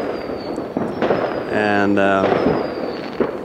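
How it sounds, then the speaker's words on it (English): Fireworks going off around midnight on New Year's Eve in Sweden, scattered crackling pops and bangs at some distance, with a whistling rise in the middle, while a person briefly talks nearby. "fireworks are being shot here and there."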